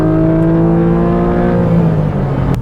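A Porsche 718 Boxster GTS with its 4.0L naturally aspirated flat-six, top up, revving hard toward a 7,900 RPM redline, a loud rising wail that climbs steadily in pitch before easing off.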